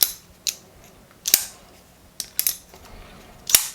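A Flissa folding knife flicks open and snaps shut several times, giving sharp metallic clicks and snaps spaced about a second apart, close and crisp against a quiet room.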